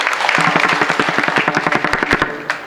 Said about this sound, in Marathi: टाळ्या वाजवा कळाला असलं तुम्हाला तर.